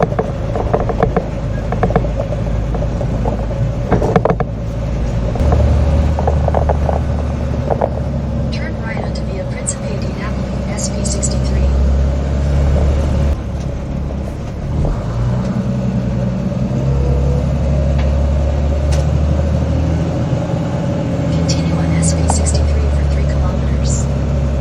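A skoolie bus driving through an Italian village, with a steady, loud engine rumble and road noise throughout, a rise in revs partway through and faint clicks and rattles on top.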